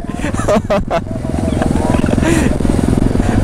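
Kawasaki Z900 motorcycle idling on a street, a loud close rumbling engine throb with sharp blips of revving, under overlapping voices.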